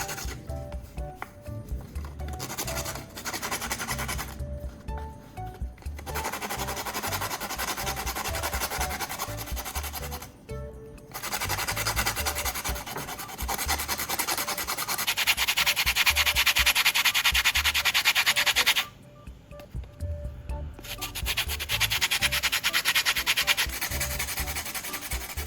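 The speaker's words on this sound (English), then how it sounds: "I'll grind the charcoal down and collect a fine powder." Charcoal being ground into a fine powder, with steady rough scraping and rubbing strokes, close and continuous, broken by a few short pauses and growing louder toward the end.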